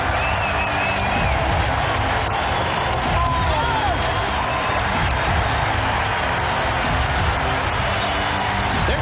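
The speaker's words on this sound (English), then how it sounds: "And a standing ovation from this Wizards crowd." A Washington Wizards basketball crowd rises in a standing ovation for Michael Jordan, with sustained loud applause, cheering and crowd roar filling the arena and continuing throughout, an announcer's voice faintly beneath.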